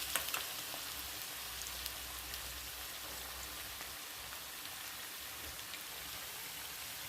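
Onions fry in a pan for vangyache bharit, a spicy brinjal dish, giving off a steady, even sizzle that runs without a break. It sounds close and moderate in level, and no one speaks.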